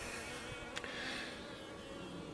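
Honey bees hum faintly around a hive topped with a jar feeder of honey, a soft, steady buzz in the background with one brief louder pass of a bee flying close by.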